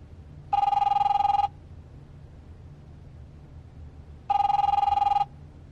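A telephone rings in The Wolf Among Us video game, two separate bright electronic rings of about one second each, spaced several seconds apart over a low steady background hum.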